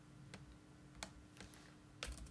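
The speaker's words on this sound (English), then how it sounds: "We're going to type in" Light typing on a computer keyboard while entering tire size and gear ratio into monster truck tuning software, a few sparse, quiet keystrokes spread over two seconds against faint background hum.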